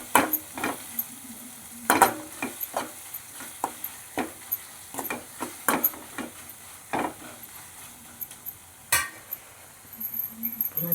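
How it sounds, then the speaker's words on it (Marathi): Cooked bitter gourd sizzles gently in a pan while a spoon stirs it, scraping and clinking against the metal in irregular strokes over the soft frying hiss. "पुन्हा ही कारली शिजवून घेतलेली अशी टाकायची आणि असे हलवून घ्यायचे."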